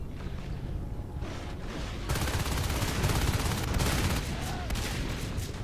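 Gunfire rattles in Natural Selection 2, a dense, continuous volley of rapid shots mixed with in-game action, growing louder midway, with a commentator talking over it.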